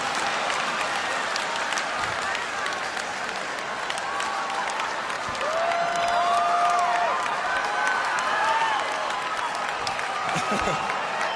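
Comedy club audience at a stand-up show gives sustained applause with scattered cheers and whistles, a full, roomy roar that swells midway, with voices shouting and chattering through it.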